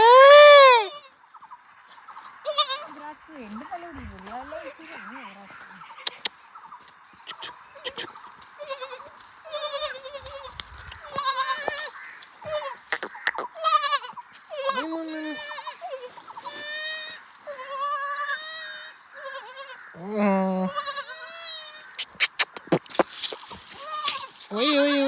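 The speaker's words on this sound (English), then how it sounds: "It's male goat." A male goat bleats repeatedly on a Himalayan mountain pasture, loud wavering cries at first, then quieter calls scattered through the clip while someone speaks now and then.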